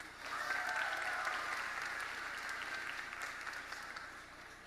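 Sustained crowd applause fills a high school graduation ceremony in 2019, a steady wash of many hands clapping from a sizable audience, holding evenly throughout and tapering slightly toward the end.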